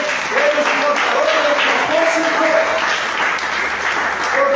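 A church congregation gives loud, steady applause throughout, with a preacher's voice carrying over the clapping.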